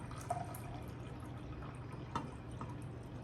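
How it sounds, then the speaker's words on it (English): Warm water poured into a classroom beaker for a yeast and cellular respiration experiment, a low steady trickle with faint drips, soft and fairly close, with no talk. "put water into your beaker"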